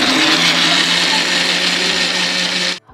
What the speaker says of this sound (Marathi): तर आता हे मी मिक्सरमध्ये फिरून घेते.